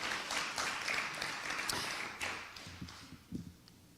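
An audience at a school district celebration claps for committee members, a fairly faint, dense patter of applause that thins into scattered individual claps toward the end.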